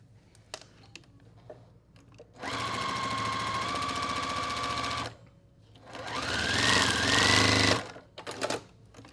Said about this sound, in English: we're going to just sew with a 1/4 inch seam